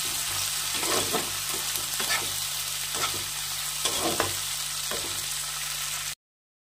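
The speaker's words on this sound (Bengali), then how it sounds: "দিয়ে ভালো করে নেড়ে চেড়ে কষিয়ে নেব" Spice masala for khoira fish sizzles steadily in a pan while a spatula stirs and scrapes it in repeated strokes, close and continuous with no talking.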